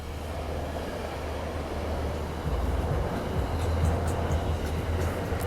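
A train runs past at a rail station in the U.S., a steady low rumble of wheels and rail noise that swells louder partway through, with faint higher squeals near the end and no voices.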